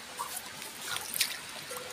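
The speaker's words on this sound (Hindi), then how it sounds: "ये तो अभी बहुत छोटा सा झरना है" Small waterfall in Meghalaya trickles with a soft, steady, hissing splash of water, faint and continuous with no voices.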